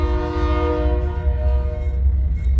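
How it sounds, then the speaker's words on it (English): A westbound intermodal freight train in Fremont, Nebraska sounds its horn, a loud chord blast held close by over a low rumbling engine and rail noise. "here comes a intermodal running west"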